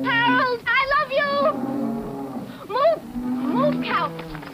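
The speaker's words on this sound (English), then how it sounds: "Move! Move, cow!" A cow moos several times in a 1969 Chevrolet truck commercial, loud and close, with drawn-out calls broken by a voice shouting in between.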